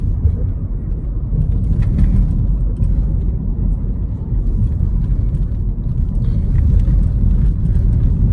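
A garbage truck drives on a road with a heavy, continuous low engine rumble, loud and close, steady with slight swells.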